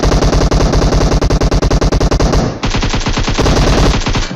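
Rapid automatic gunfire in the video game PUBG, loud and close, a fast unbroken stream of shots that briefly pauses and resumes with a slightly different tone.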